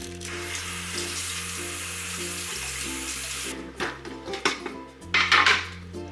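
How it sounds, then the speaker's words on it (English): Kitchen tap water running over cauliflower being washed in a sink, a steady rushing flow that breaks into splashes, clatters and handling noises as the florets are rinsed, with no talking. "Next, we are going to take our cauliflower and we're going to wash it."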